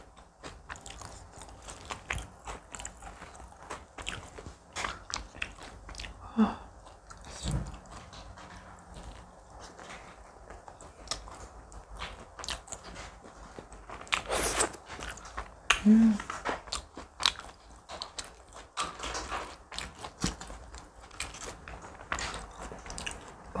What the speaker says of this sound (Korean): 이제 왕만두 하나 먹으면